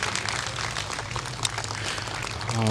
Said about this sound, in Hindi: तालियां बजती रहनी चाहिए प्लीज इनके लिए.